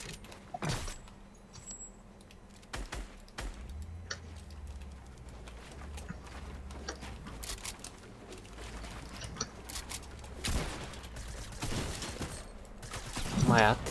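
Gunfire in the video game Fortnite during a team rumble match, scattered sharp shots and short bursts at varying distances over low engine-like rumble, with brief voices speaking between them.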